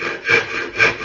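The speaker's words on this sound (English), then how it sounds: "Sawing with hand saw is very difficult for beginners" A hand saw cuts through wood in two even back-and-forth strokes, each a loud rasping rub, close up with no voices.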